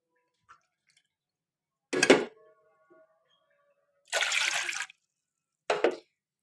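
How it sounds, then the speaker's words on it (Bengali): Water, about two cups, is poured into a pot for making falooda in three short splashing bursts, the middle one longest, close and clear with quiet gaps between. "2 কাপ পরিমাণ পানি নিয়ে নিব"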